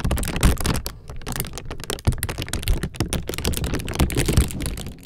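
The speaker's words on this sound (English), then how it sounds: "I put my microphone inside an empty plastic cereal bag and recorded myself very slowly crumpling it." A plastic cereal bag is slowly crumpled with the microphone inside it, giving a loud, close, thick crackling and crinkling that runs continuously with dense irregular snaps.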